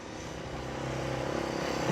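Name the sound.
motorcycle passing by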